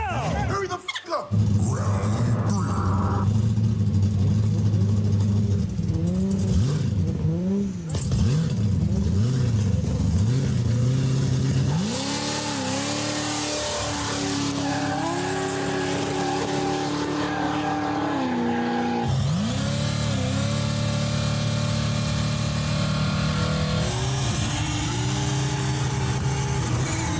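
An 850hp burnout car and an 800hp S15 Silvia drift car hot lapping, engines revving hard and rising and falling close by over tire noise, with people talking and shouting throughout.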